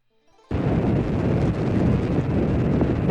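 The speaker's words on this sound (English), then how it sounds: "Here's the Challenger's launch from multiple angles" Space Shuttle Challenger's rocket engines ignite at launch: a sudden burst of loud, broadband roar that settles into a sustained, crackling rumble with no voices.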